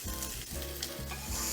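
Steady sizzling of olive oil frying in a hot pan, a continuous crackling hiss with no talking, while making pasta aglio e olio.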